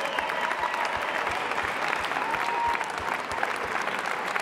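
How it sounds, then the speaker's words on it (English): An audience at a live family band performance at a convention claps and cheers steadily, a dense sustained round of applause filling the hall. "Can we have one more round of applause for everyone performing tonight?"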